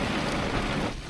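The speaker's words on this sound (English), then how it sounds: "there's a heavy storm right on top of us." Heavy rain pours down during a storm in Las Grutas, Patagonia, Argentina: a dense, steady roar of drops hammering surfaces, loud and close, with no voices.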